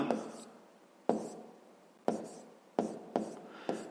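A pen writes on paper during a fifth-grade math exercise, making several short scratchy strokes about a second apart, each starting sharply and fading, close by and faint.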